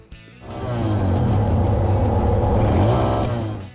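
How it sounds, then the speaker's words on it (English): Suzuki DR650 air- and oil-cooled single-cylinder motorcycle engine revving up loudly after a brief idle, holding a strong, throaty drone before easing off at the end. "Number 12. Suzuki DR650 Air and Oil Cooled Single."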